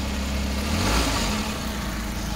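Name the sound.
Suzuki DA64V K6A non-turbo engine being revved, hesitating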